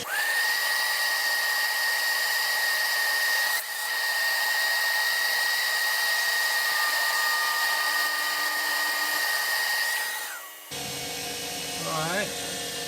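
A vacuum runs beside a small CNC mill, a steady loud whine and hum for about ten seconds before it cuts off abruptly, leaving a quieter tonal drone at the end.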